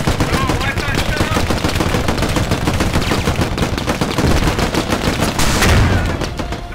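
Dense, continuous gunfire from the tactical shooter game Squad, with rapid overlapping bursts of automatic weapons and scattered single shots forming a loud, sustained barrage throughout.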